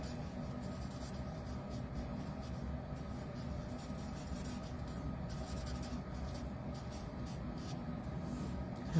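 Alcohol markers stroked repeatedly over cardstock while coloring a baby card illustration: a soft continuous scratchy rubbing of felt tips on paper, close and quiet, steady back-and-forth with a brief louder bump at the end.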